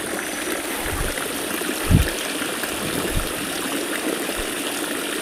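Mountain spring water pours steadily from the spouts of Pancuran Pitu near Candi Cetho on the slopes of Lawu, a constant close rushing splash with a few low thumps, no talk.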